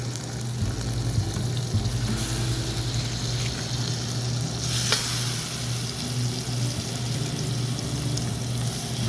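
Pork chops fry in a mix of butter and sunflower oil, giving a continuous close sizzle with crackling spatters and a brief louder burst midway, no voices over it.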